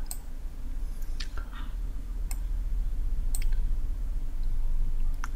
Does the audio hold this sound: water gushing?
no